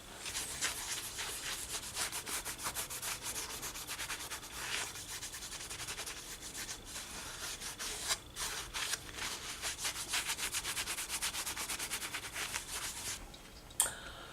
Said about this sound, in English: While it's warm, I'll give it a second coating of wax on the outside.